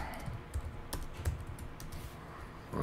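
Keys on a computer keyboard are tapped in short, irregular bursts of clicks, close and fairly quiet, with a brief pause between strokes.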